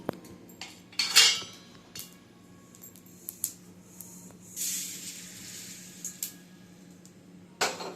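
Fried bhakarwadi is moved from a kadhai onto a plate, with sharp metal utensil clinks and scrapes coming in scattered bursts and a soft hiss in between, close up and otherwise quiet.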